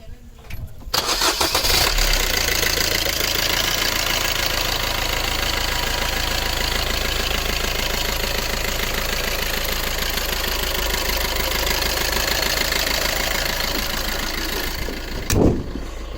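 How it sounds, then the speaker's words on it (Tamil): A used Bolero's engine turns over and settles into a steady, continuous idle, a low rumble with faint rhythmic knocking throughout, ending with a brief click. "வண்டியோட இன்ஜின் சவுண்டையும் பார்த்தீங்கன்னா நம்ம கேட்போம்"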